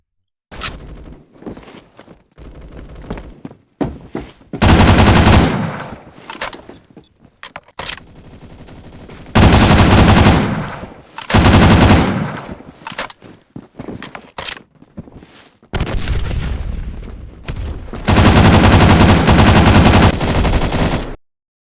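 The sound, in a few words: AN-94 rifle gunfire in a video game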